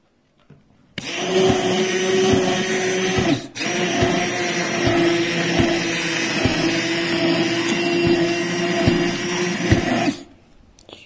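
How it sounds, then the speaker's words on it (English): A hand blender whirs loudly and steadily at close range, emulsifying deer tallow lotion, pausing briefly for a moment before running on for several more seconds, then cutting off. "I'm just going to use my hand blender and see how this goes."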